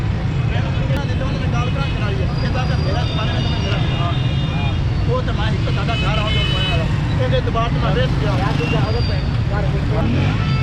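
Dense, loud street noise at Ghanta Ghar Chowk in Faisalabad, Pakistan: a constant roar of engines and traffic with repeated honking horns and overlapping voices throughout.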